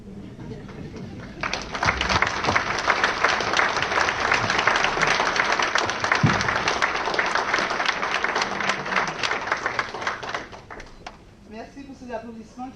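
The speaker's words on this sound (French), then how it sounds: "Merci pour ces applaudissements qui font chaud au cœur" Guests at a National Order of Merit ceremony give sustained applause for a newly named knight, dense clapping swelling after a quiet start, holding strong, then fading as a voice begins speaking.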